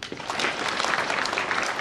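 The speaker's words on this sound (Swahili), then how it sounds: "Tuwapigie makofi." A crowd clapping together at a graduation ceremony in a Catholic church, a dense, even patter of many hands heard up close for just under two seconds.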